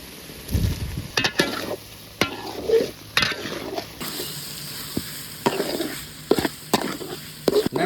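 Fried shrimp is stirred into a sizzling paste of grated mature coconut, chopped onion, turmeric and salt in a village kitchen. A steady, close frying hiss is broken by repeated irregular scrapes and clanks of a spoon against the pan.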